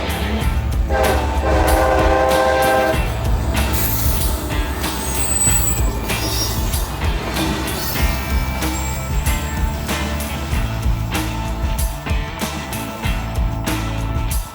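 Freight train of six locomotives, an SD40-2 leading, passing in snow and hauling track panels: a loud continuous rumble of engines and wheels with a horn blast early on and squealing wheel tones, no speech.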